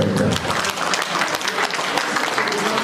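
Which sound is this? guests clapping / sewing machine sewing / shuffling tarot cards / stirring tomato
guests clapping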